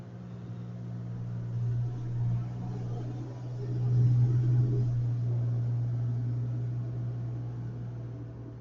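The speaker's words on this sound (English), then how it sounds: "Those things that cleans the pavement." A steady low mechanical drone from a street-cleaning machine working on the pavement outside a house rumbles throughout, swelling slightly midway as it passes nearby.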